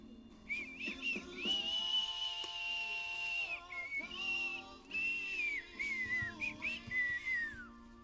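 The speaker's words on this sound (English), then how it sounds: "Yeah, I can't sing, so I whistle." A man whistles a melodic tune on his own, with sustained notes and quick slides strung into phrases over about eight seconds, close and fairly loud.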